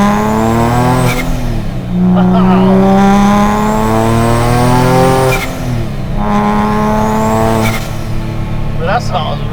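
A turbocharged Nissan NISMO engine roars loudly up close, its pitch climbing through repeated pulls with short dips between them as a blow-off valve releases, while people talk over the noise.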